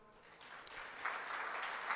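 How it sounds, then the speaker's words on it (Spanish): Applause from a seminar audience at an international security and defence symposium hosted by the Peruvian Navy, rising steadily into a full, sustained clatter of many hands with no voices over it. "Y a ellos les brindamos un fuerte aplauso"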